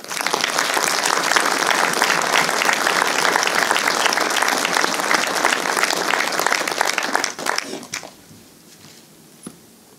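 Sustained crowd applause for the town's municipal agents and social-services staff at a New Year's greetings ceremony in Bernay, loud and dense for about eight seconds before quickly tapering off into a quiet room with a single soft knock.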